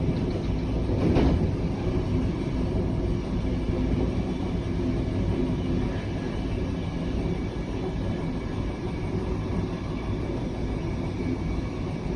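Train rumble in Switzerland near Zurich, a steady low-pitched rolling drone holding throughout at moderate level, with a brief louder bump early on.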